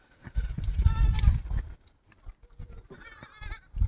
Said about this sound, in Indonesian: Ini kalau jenisnya kambing apa ini, Pak? Rambon kalau istilah orang Jawa itu.